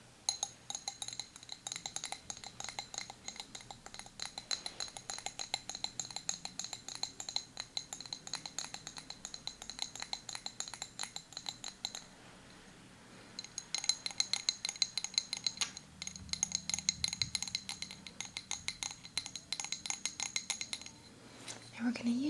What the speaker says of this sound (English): we are going to be using a glass Athame